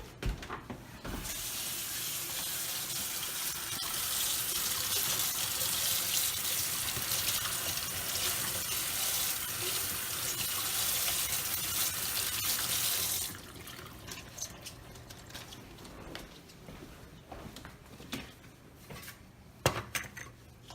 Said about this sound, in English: After they're beaten, you're going to want to wash your green onions because they are a root and they get dirty.